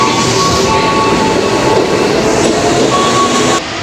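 MRT metro train at Sudirman station in Jakarta, a steady loud rumble of rolling cars with faint tonal whines and squeal, continuous throughout and easing slightly at the end.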